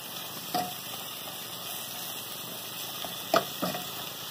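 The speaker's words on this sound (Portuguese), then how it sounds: "Vamos refogar bem a nossa linguiça" Linguiça sausage frying in oil makes a steady, moderate sizzle throughout, broken by a few short clacks of stirring, with no talking.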